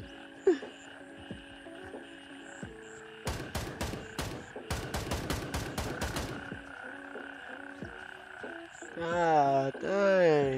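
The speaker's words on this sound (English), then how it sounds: "Frogs are too loud." Frogs croak in the Gray Zone Warfare video game, a loud rhythmic chorus of rapid croaks, with bursts of gunfire and other game sounds mixed in.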